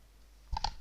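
A computer mouse gives two quick, close clicks in fairly quiet surroundings while someone works in a React Redux edit post form.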